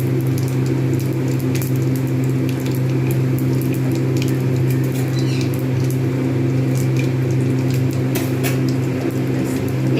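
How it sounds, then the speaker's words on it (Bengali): Whole cumin, five-spice, dried chillies and bay leaf tempering in soybean oil for vegetable khichuri, a continuous close crackling sizzle with fine popping spatters over a steady hum, no speech. "প্রথম আমি এটাকে ফোড়ন দেবো। এটা একটু লালচে লালচে মতো ভাব আসবে"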